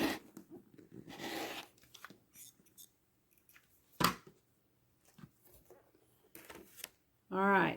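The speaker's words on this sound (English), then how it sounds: "And then I'm going to trim my remaining 2 sides." Quiet, scattered cutting sounds come from trimming the sides of a pink fabric quilt block, likely with a rotary cutter. The slices are short and soft, with a few sharper strokes amid a light shuffle of fabric.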